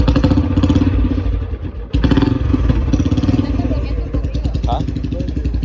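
A motorcycle engine runs with a steady rumble and rattling clatter, close and fairly loud, with people talking over it.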